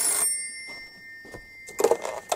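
A desk telephone rings in a home, with a brief burst at the start and then louder bell bursts near the end after a quieter stretch.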